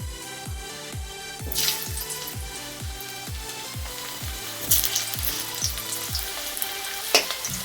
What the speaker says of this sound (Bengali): এবার আমি এই যে তেল দিয়ে দিয়েছি কড়াইয়ে আলুগুলো আগে ভেজে নেব